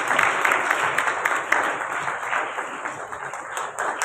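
An audience at a Bible Marathon opening ceremony applauds as a priest arrives, with sustained, fairly loud crowd clapping, steady and dense, with an announcer's voice heard faintly underneath.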